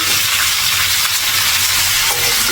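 Ivy gourd and potatoes fry in hot oil, giving a loud, dense, steady sizzle with crackling hiss close by and no talk.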